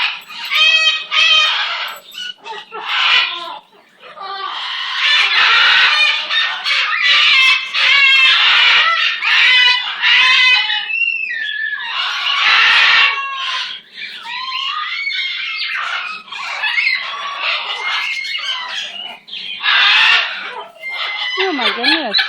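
A pet baby bird chirps and squawks in quick, close bursts, a busy run of shrill calls that keeps going under a person talking softly to it.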